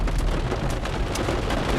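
Steady, loud rain pouring down outdoors, a dense continuous hiss of drops on surfaces with no pauses and no voices.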